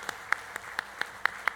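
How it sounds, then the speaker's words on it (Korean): At a Korean church rally, a few sharp, evenly spaced claps ring out in a quiet room, about seven crisp slaps in quick rhythm, sparse rather than a full congregation's ovation. "수고하신 모든 분들에게는 감사의 박수 한번 해줬으면 좋겠습니다"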